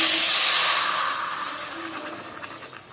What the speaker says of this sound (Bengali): এবার আমি এতে দেব জল।